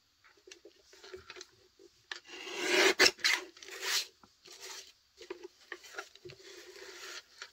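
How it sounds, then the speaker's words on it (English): Paper being trimmed on a Tim Holtz guillotine trimmer, heard as soft rubbing and rasping slides of the blade with a louder scraping stretch in the middle, close and alone. "I'm just using my guillotine trimmer from Tim Holtz"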